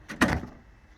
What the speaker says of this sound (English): Opening the barn doors